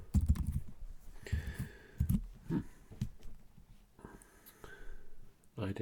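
Keys clatter on a computer keyboard in uneven bursts of close, soft tapping, with faint background noise.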